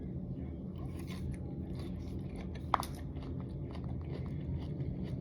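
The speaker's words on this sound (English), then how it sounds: "lotus is so good and it's crunchy" Crunchy lotus root from a Korean dry hot pot is chewed close to the mic, with soft repeated crunches and one sharper bite standing out over a steady low background.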